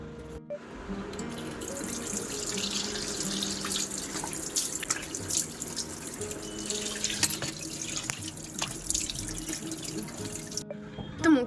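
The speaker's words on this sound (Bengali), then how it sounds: "মুখে এখন জল দিইনি চলো একটু মুখে জল দিই" A tap runs steadily into a sink for about eleven seconds while someone washes their face, with splashing, slapping water and drips over the constant flow, close by and without talk.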